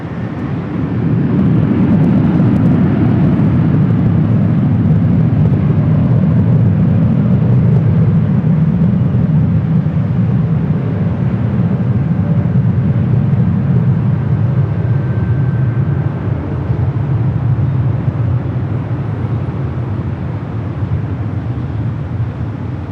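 An airliner takes off from a runway at LAX with a steady, broad jet roar that holds loud and even throughout, swelling slightly and then easing toward the end, with no voices.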